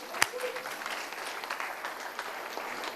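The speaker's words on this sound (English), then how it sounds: "Can y'all give John 2 claps?" Applause for John at a Boys and Girls Club annual banquet, a soft, fairly distant patter of clapping from the audience with one sharp nearby clap at the start.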